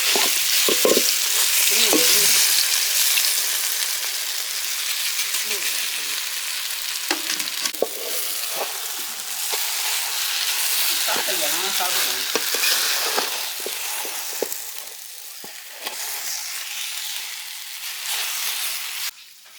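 Steady sizzling of tapioca frying in a pan for Kerala-style kappa curry, with intermittent scraping and stirring sounds throughout, close up and continuous.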